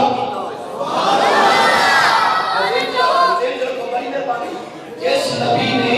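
A crowd at a mosque gathering chants a religious slogan together, loud and sustained, with massed voices rising and falling over about six seconds and a brief dip before a fresh surge.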